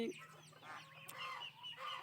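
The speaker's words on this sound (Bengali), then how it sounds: "হাঁসের বাচ্চাগুলোকে তো ছেড়ে দিয়েছে আজকে এই যে শুরু হয়ে গেছে মারামারি শুরু হয়ে গেছে মারামারি" Young Muscovy ducklings squabble close by, giving off a run of faint, high-pitched peeps and chirps that rise and fall without pause.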